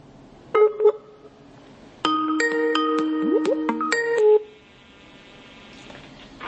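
Mobile phone redialing a dropped call gives a run of short electronic dial tones and beeps, clear and close, first a quick pair, then a longer busy sequence of stepped tones before falling quiet with faint room noise.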